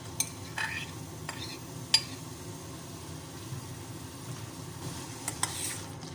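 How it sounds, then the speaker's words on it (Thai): Soft sizzling of minced fish stir-frying in a pan under intermittent scraping and clinks of a utensil stirring, a steady low kitchen hiss throughout. "และเราก็คั่วไปเรื่อยๆนะคะจนกว่าปลาจะสุกนะคะ"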